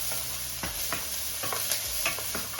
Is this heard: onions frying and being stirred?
yes